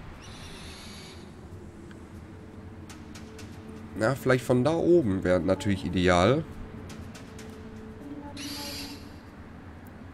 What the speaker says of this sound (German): Hör mal die Eule rufen.